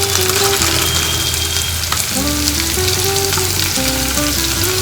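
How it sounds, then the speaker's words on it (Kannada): Onions and dried fenugreek leaves frying in a pan for a chicken dish: a loud, continuous close-up sizzle with no pauses, over faint tonal music in the background. "ಸೊ ಕಸೂರಿ ಮೇಥಿ ಹಾಕ್ಕೊಂಡು ಚೆನ್ನಾಗಿ ಫ್ರೈ ಮಾಡ್ಕೋಬೇಕು"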